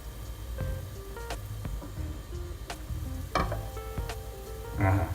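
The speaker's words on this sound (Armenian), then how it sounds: "Ինքը սկսեց տապակվել, վերջ։" Bread sizzles and crackles in a hot pan, with occasional louder pops and a brief burst of stirring or scraping near the end.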